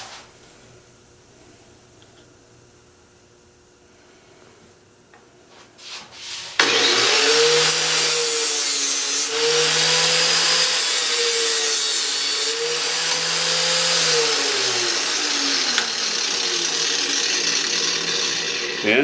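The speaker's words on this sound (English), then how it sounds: "Now I'm going to saw a nut without talking, just so you can see how fast it takes" A handheld Walnut Saw cuts grooves into a black walnut, starting after several seconds of near silence as a loud, rasping saw grind in about three long, rhythmic back-and-forth strokes, close and without talk.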